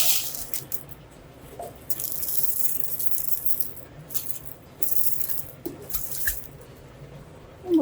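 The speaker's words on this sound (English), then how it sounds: "Add just a tiny bit more water." Water trickles and splashes into a rock tumbler barrel in short pours, with faint rattling of stones, close and fairly quiet with brief pauses between pours.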